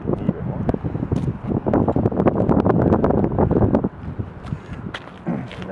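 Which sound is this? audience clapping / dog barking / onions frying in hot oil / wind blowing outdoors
wind blowing outdoors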